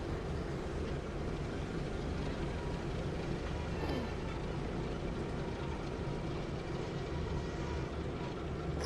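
A steady, unbroken rumble of a train running in a Thomas & Friends train game, with an even, continuous roar and no distinct beats or pauses.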